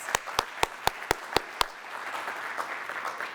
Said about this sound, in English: yes, we can applaud for them, yes.